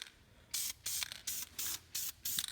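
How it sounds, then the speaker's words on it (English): Short bursts of an aerosol spray paint can hissing in test sprays before painting a Honda Accord's brake calipers, five or six quick sprays in a steady rhythm, close and clear. "shake it up real nice and good, and then test spray real quick"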